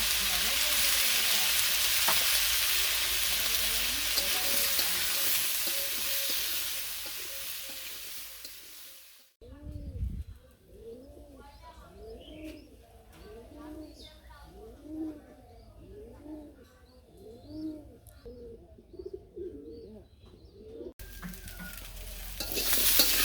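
Diced potatoes fry in a pan with salt, turmeric and chili, stirred in a village kitchen. A loud steady sizzle gives way midway to pigeons or doves cooing nearby, then the sizzle returns at the end.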